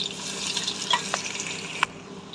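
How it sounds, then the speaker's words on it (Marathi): Two medium onions sauté in a pan until browned, a soft continuous sizzle broken by a few sharp scraping stirs, fairly quiet and close. "कांदा पण आता तांबूस कलर होईपर्यंत परतायचे आपल्याला."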